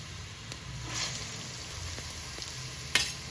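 Bottle gourd halwa frying in hot oil on a home stove, a steady soft sizzle running throughout with occasional faint crackles and a brief sharper pop near the end, no talking.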